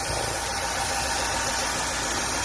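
A Mitsubishi Lancer engine idles steadily and loudly up close, a continuous mid-pitched hum with a faint knocking texture and no variation in speed.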